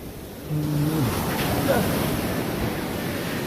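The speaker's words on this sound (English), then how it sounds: "whoa, I'm getting soaked by water here" Water suddenly rushes and sprays over a person outdoors, a dense hissing wash that starts abruptly and keeps going. A voice is briefly heard at the start.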